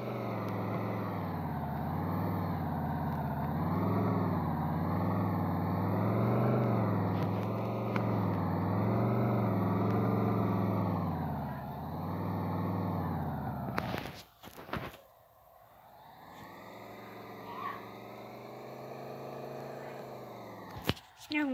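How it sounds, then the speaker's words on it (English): Pickup truck being driven to park at a campsite, a steady close engine drone with wavering pitch for most of the stretch, then a clunk and quieter idle as it slows. "I'm going to park this truck"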